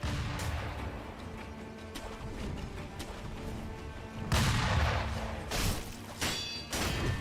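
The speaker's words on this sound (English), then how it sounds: "there's firecrackers all over the place" Firecrackers bursting across an area in Sekiro: Shadows Die Twice, a dense run of close, sharp cracks and thuds with heavier booms after the midpoint, loud and continuous without talk.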